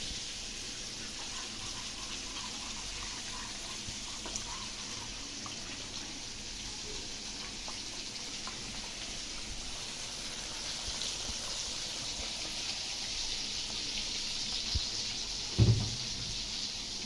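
Hot water poured into a bowl of tahini with chili, pepper and salt for a sauce, a steady low water-flow wash throughout with a brief thump near the end, no talking.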